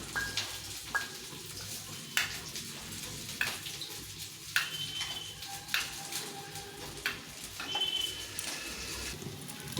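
Fish frying in oil for a potato and cauliflower fish curry, with a steady sizzle and crackle and occasional sharper clinks of a utensil against the pan, heard close with no talk.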